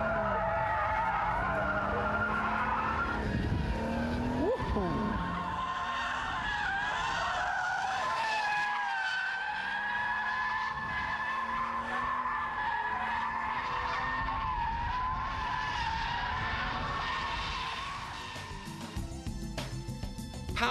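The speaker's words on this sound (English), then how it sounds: "Power slides are a bit trickier than donuts, but then they are more fun too." Tyres squeal in a long, sustained skid as a car power-slides, the screech wavering in pitch over a low engine note before cutting off.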